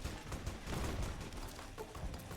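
Dense gunfire and sniper shots from the Fallout: New Vegas video game, a continuous loud barrage of overlapping shots and booms with no clear gaps across the whole stretch.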